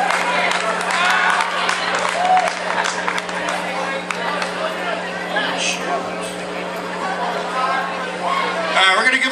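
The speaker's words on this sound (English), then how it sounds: "Give them a big round of applause." Outdoor downtown crowd at a Wisconsin Rapids band performance applauding and cheering, scattered clapping and whoops mixed with chatter and a voice on a PA, moderately loud and continuous.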